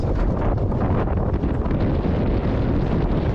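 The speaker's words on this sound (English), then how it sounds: "the wind is starting to pick up a little bit" Steady wind buffeting the microphone on a sailboat on a crowded lake, a loud, continuous rumbling roar with no talk.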